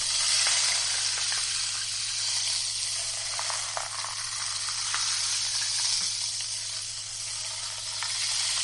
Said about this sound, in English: You can flip it and create a wave effect.